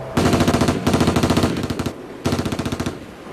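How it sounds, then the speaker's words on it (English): Machine gun fire in long automatic bursts, two sustained volleys and then a third after a short pause, loud, close and harsh, with no talk over it. "a machine gun opened up"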